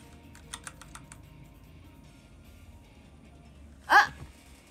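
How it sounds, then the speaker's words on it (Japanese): A short burst of quick keyboard keystrokes sounds early, then quiet, followed by a sharp hiccup-like vocal noise near the end. "これ音いいよね、キーボードって。"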